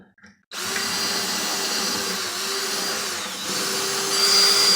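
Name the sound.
power drill boring into antler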